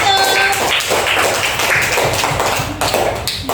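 Classroom applause for group 1, a room of pupils clapping together loudly in a dense, steady patter that fills the whole stretch, with a brief tone at the start.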